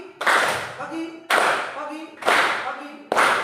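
Four bursts of school class hand clapping, each a short crackling volley, evenly spaced, with a teacher's voice speaking briefly between them.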